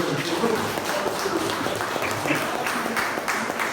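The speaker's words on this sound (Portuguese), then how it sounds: "Você pode aplaudir o Senhor?" A church congregation at a Portuguese-language service claps for the Lord, producing a steady wash of applause that fills the room without a break.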